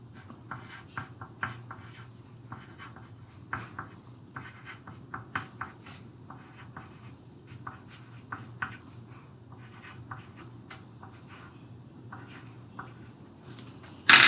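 Pencil or pen writing a short sentence by hand, a soft steady scratching of strokes with brief pauses, quiet and close, with a low room hum beneath and a sharp knock at the very end.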